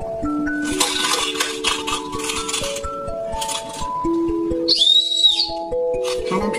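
A whistle-shaped ice cream candy blown into, giving one short, bright, clear whistle tone midway, set among clinking and crinkly handling sounds of sweets and wrappers.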